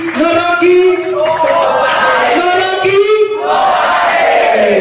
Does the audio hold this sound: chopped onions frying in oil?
no